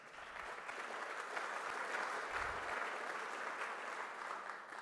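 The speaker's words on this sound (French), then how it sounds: "vous pouvez l'applaudir" An audience at a conference claps steadily, a dense, even wash of applause that swells slightly and then holds for several seconds, with no voices over it.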